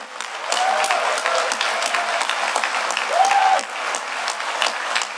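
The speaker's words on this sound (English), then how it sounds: "then you guys are going to clap again at about like 9 times the volume for those folks over there" A conference audience at DEF CON 20 applauds loudly and continuously, a dense wash of many hands clapping that holds steady throughout.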